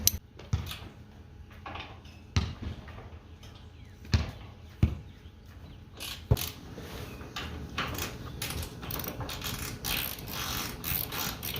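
Short ratchet wrench clicks come in scattered bursts while 9/16 bolts are loosened from the tailgate of an old rusty utility trailer, with metallic knocks and clatter building toward the end.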